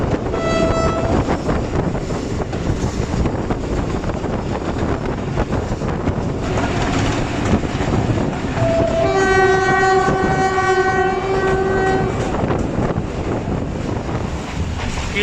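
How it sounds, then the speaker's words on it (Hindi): A Lasani Express passenger train at a railway station rumbles loudly and continuously, with heavy wind buffeting and a long, sustained horn blast in the later part. "ट्रेन का इंतज़ार करते हुए स्टेशन पर मौजूद हैं"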